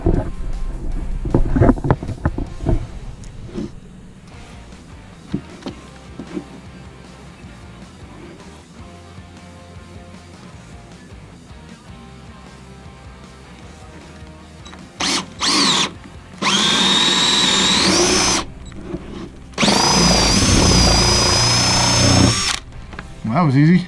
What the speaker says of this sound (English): So let's get the drilling.